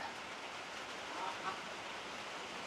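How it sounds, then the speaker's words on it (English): Steady rain falls outside a room, a soft continuous hiss of even loudness with no other distinct sounds over it. "Y'all hear the rain?"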